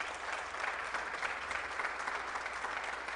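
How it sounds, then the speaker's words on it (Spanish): A church congregation claps together in sustained, even applause during a worship broadcast, a dense continuous patter of many hands heard from a moderate distance. "Vamos a darle un aplauso al Señor."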